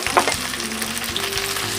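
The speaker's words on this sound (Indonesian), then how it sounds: "Saya masukkan bawang merah yang sudah diiris tipis." Thinly sliced shallots fry loudly in a pan with garlic, giving a strong steady sizzle with faint stirring scrapes and no talk.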